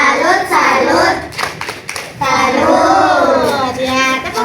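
Schoolchildren in a classroom do a rhythmic salute clap, with sung chanting voices carrying over the clapping, short bursts of handclaps between the chanted phrases.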